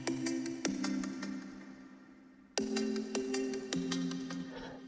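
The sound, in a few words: Logic Alchemy synth patch Knocking Echoes with delay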